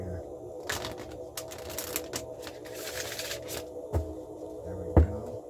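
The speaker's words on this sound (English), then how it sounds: "Let's get one more good shuffle here on this moonology deck here." A Moonology oracle card deck being shuffled by hand, giving soft, close papery riffles and taps with a few sharper knocks against a quiet background hum.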